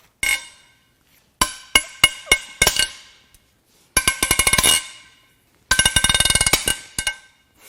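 Head bolts on a Hyundai/Kia 2.4 Theta II G4KE engine break loose during teardown: sharp, loud metallic cracks and smacks come singly and in quick rattling bursts, separated by silent gaps.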